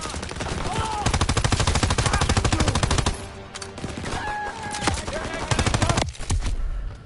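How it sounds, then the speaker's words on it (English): Call of Duty WWII battlefield with loud machine gun bursts in rapid repeated volleys, pausing briefly midway before resuming, with faint voices and combat noise in the mix. "Daniel, let me fire on the right"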